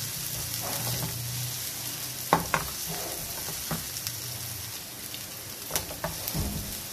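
Onions soften in a little oil with a steady crackling sizzle, punctuated by a few spoon scrapes and clinks against the pan, close and fairly quiet.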